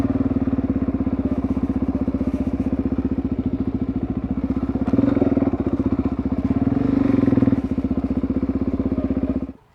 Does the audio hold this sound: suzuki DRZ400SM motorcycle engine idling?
yes